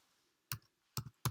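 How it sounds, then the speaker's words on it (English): Three separate keystrokes on a computer keyboard, sharp clicks spaced across a quiet room, each with a small rebound, close and fairly soft with nothing else heard. "I press on the tab or the tabulator key on the keyboard"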